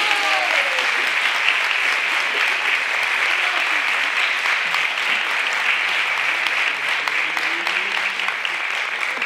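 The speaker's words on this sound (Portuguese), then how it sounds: "Um grande aplauso para o Jorge Gonçalves." Sustained audience applause for Jorge Gonçalves after a community theatre performance of A Midsummer Night's Dream, a dense, steady wash of many hands clapping throughout at full volume.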